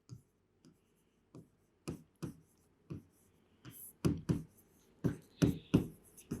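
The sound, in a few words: writing by hand with a pen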